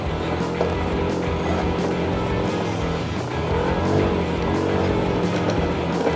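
Motorcycle ridden over a rough dirt track toward a limestone cave campsite in Norzagaray, Bulacan, its engine a steady near drone with bumpy, rattling variations throughout.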